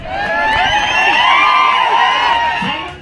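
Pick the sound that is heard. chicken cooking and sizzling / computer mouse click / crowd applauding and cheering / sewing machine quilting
crowd applauding and cheering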